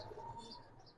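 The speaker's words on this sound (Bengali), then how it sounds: "ওই যে 420-এর গুড়ের কবুতর গুলো" Soft cooing from ringed, tagged domestic pigeons such as Silver Pankhi and Lal Dom breeds, faint low calls close by with a quiet background and no one speaking.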